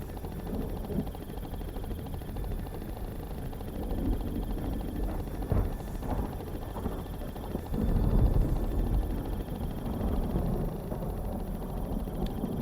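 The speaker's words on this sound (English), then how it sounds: "The sound of the chopper is probably frightening her." A distant helicopter drones steadily in the background, a low rumbling whir that swells slightly at times, with no voices.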